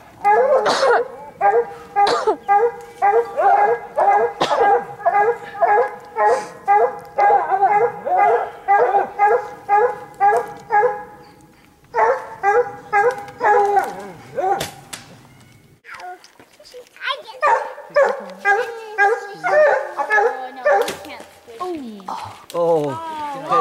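Hunting dogs bark and bay in rapid, steady bursts at a bear treed during an Arizona hunt, the loud chorus nearly continuous with a brief lull midway, while people talk now and then over the barking.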